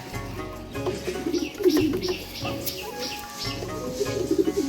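Madras pigeons at a home loft coo in repeated low throaty phrases, close and fairly loud, with occasional chirps and a brief wing flutter.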